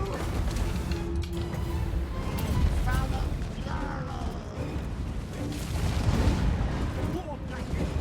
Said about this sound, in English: Poison wind mortar.